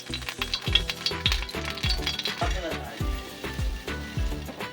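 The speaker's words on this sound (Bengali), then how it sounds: "অল্প একটু ঘি দিয়ে আমরা সিমাইটা ভালো করে ভেজে নেব।" Semai vermicelli frying in ghee in a hot wok, stirred with repeated scraping strokes in a steady rhythm over a continuous sizzle, close and moderately loud.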